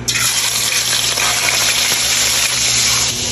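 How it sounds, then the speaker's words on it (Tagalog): Fish fries in hot oil for ginataang isda, a Filipino fish dish in coconut milk, giving a close, steady, dense sizzle that continues throughout. "Habang piniprito natin yung isda"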